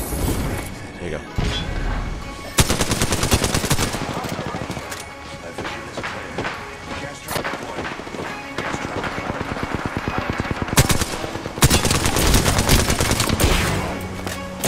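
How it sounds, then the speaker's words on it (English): Alternator submachine gun fire in the Apex Legends video game, with dense rapid bursts, booming impacts and repeated volleys throughout, heard loud and close. "I'm using the alternator, and it's working."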